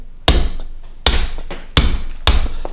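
A hammer strikes a point chisel on Portland stone four times, each blow a sharp, loud, close crack with a short ringing decay, falling at a slightly uneven rhythm.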